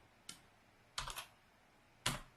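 Computer keyboard typing, three short, quiet clusters of keystrokes separated by pauses, close by and with no voices.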